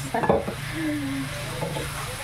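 String beans go into a pan of frying adobo, setting off a close, loud sizzle with a few stirring scrapes at the start, then a steady crackle that carries on for a couple of seconds.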